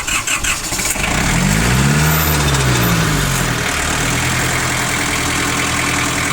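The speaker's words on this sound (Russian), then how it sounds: "Трактор работает достаточно ровно, хорошо." A four-cylinder four-wheel-drive tractor engine fires up with a rising, slightly overrevved surge, then settles into a steady, loud, close idle.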